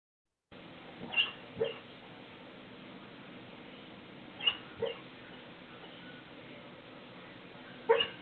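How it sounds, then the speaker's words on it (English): A sleeping dog lets out a few soft yelps and whimpers in brief pairs, spaced seconds apart over a steady background hiss. "So this is a dog that's asleep. and it's making these yelping sounds."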